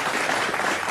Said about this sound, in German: Es gibt heute Beifall am laufenden Band.